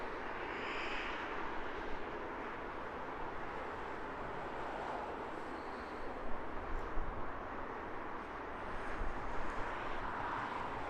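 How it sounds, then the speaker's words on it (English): An Airbus A350 taxiing at Heathrow Airport after arrival gives a steady, broad jet engine roar heard from a distance, continuous and fairly even with slight swells. "A very backlit A350 taxiing after arrival."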